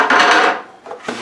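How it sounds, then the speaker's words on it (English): A third of a regular-size cucumber rasped straight over a grater into a bowl, a loud, dense scraping burst followed by two shorter strokes, with no talk. "cucumber that gets grated, just like that, just straight on there."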